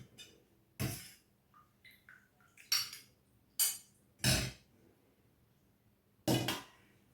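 Dal served onto a plate of rice at lunch with a spoon, heard as a handful of sharp, separate clinks and scrapes of metal on dishware against a quiet room, no talking.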